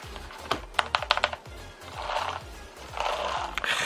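Dark grey Thinkway keyboard typed on by hand, a quick burst of sharp, close clicky keystrokes followed by softer rushing, swishing handling noises.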